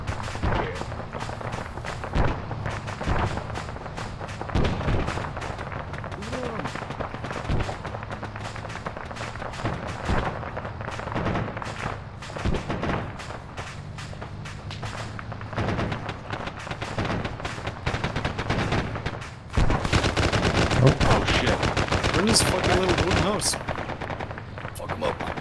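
Arma battlefield combat: a long stretch of repeated gunshots and heavier artillery booms, some isolated sharp reports, some rapid clusters, with firing growing denser and louder toward the end.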